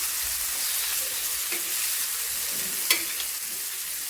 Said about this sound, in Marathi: आता दुसरी बाजू पण आपण फ्राय करून घेऊया.